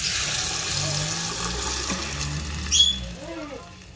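Cooking oil pours into a pan for enchiladas verdes, a continuous close rushing, splashing hiss that swells briefly and then fades, with no talking.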